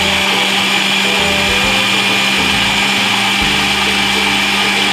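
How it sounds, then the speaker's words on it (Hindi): Mixer grinder whirring as it blends mango with milk, a loud, continuous motor roar with churning texture and slight shifts in pitch, close by and uninterrupted throughout. "इसको मिक्सी में ग्राइंड कर लेते हैं।"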